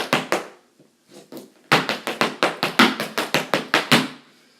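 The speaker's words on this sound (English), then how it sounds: "Really all the sound is, if you take the heel drop away," A rapid run of sharp, hard taps from Irish dance shoes on a wooden floor without a heel drop, a few scattered hits first, then a quick, steady rhythmic burst of about fifteen crisp clicks.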